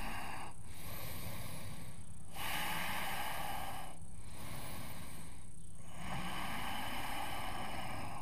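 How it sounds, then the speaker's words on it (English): Deep, steady breathing during a yoga class for athletes, long airy inhales and exhales in a slow repeating rhythm, close and fairly loud with no talking. "breathing deeply."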